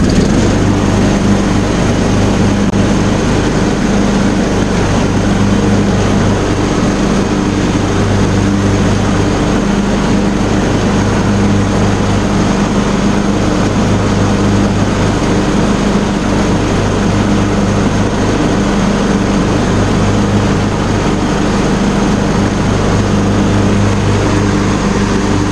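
A lawn mower engine runs at fast idle with the blade engaged, a loud, steady, unbroken droning roar with a low hum that holds constant throughout.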